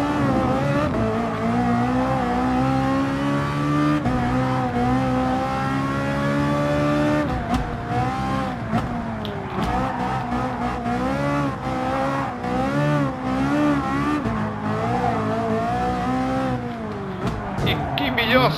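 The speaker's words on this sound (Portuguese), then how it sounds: "Melhor circuito do que o Interlagos para experimentar o carro do seu Fittipaldi" A Fittipaldi EF7 race car drives at Interlagos in the GT Sport video game, its engine revving and shifting through gears in a loud, continuous whine.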